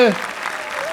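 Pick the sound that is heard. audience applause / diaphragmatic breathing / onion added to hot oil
audience applause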